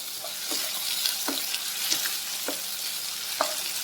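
Ginger garlic paste sizzling in a pan while cooking a field bean kurma, a steady close hiss punctuated by regular scraping strokes as it is stirred, with no voices.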